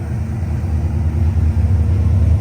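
Steady low engine rumble from a Dodge Dart being driven, loud and close throughout with no voices.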